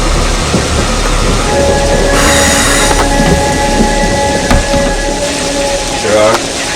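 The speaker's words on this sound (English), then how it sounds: "Beautiful train." A train rolls along its rails with a loud, constant rumble heard from inside a car, with a short burst of hiss partway through and faint squeals and clacks riding over it.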